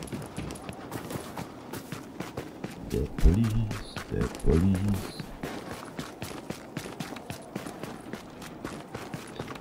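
An agent's running footsteps in The Division video game, a quick steady patter of steps throughout, with a voice speaking briefly over them.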